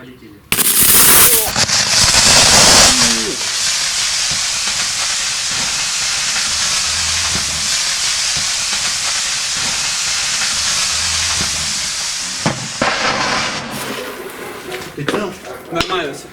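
A punctured, fully charged lithium battery vents with a loud, sustained hiss lasting many seconds, opening with a sharp burst and ending in crackling pops, as the cell melts.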